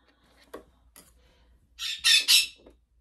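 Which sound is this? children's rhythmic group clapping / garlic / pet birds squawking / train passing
pet birds squawking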